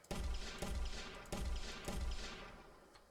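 Chaos destruction in Unreal Engine 5 breaks a fractured mesh apart, giving three loud, close crashing bursts roughly half a second apart, each followed by a rumbling, crumbling tail, with no voices.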